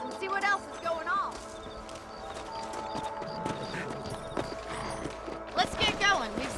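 Horse hooves clip-clop steadily at a moderate distance in Red Dead Redemption, with ambient game music and occasional voices talking over the rhythm.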